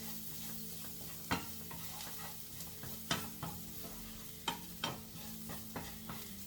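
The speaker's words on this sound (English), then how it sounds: "And then you take it and you mix it all." A spoon scrapes and knocks through coconut curry chicken in a frying pan, with a handful of sharp clacks spaced out over a soft continuous sizzle.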